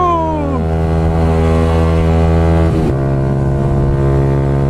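A Benelli BN 125 motorcycle on its original exhaust, its engine droning steadily and loudly up close through a test ride, pitch climbing and then holding under acceleration.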